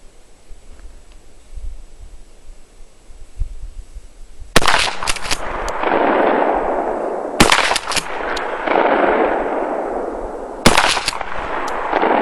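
A Mossberg 590 shotgun fitted with a Blackhawk stock fires three loud, sharp blasts about three seconds apart. Each boom is followed by a long, rolling echo outdoors, with quiet handling noise before the first shot.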